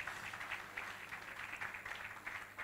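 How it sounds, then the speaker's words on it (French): Audience applause rattles on in a steady, distant wash of clapping, faint and unbroken for a few seconds. "Je vous demande de les applaudir à nouveau pour les remercier"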